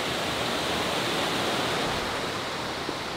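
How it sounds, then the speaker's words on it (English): Waterfall inside a huge abandoned cotton mill, a steady broadband roar of falling water heard from above, constant and unbroken, with no talking. "We're actually above the waterfall now, folks, down there, where I showed you earlier on."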